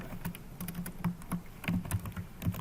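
Fingers type HTML code on a computer keyboard in quick irregular bursts of close, crisp key clicks, with no talking.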